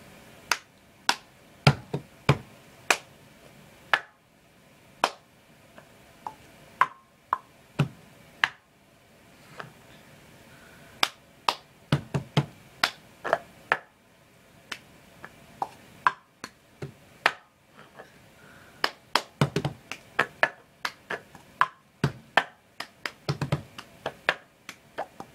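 Cup song rhythm tapped, slapped and clapped with a cup on a hard surface, a steady pattern of sharp, close percussive hits that repeats throughout without talk.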